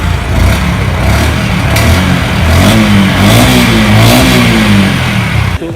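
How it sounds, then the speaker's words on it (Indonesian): A Honda Super Cub C125 motorcycle engine revs up loudly and steadily, pitch rising and falling as the throttle is worked, close to the listener. "Seperti apa sih bunyi motornya pada saat digas?"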